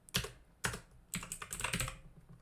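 Keys clattering on a computer keyboard in bursts: two short separate taps, then a faster run of clicks, close and fairly quiet with no talking.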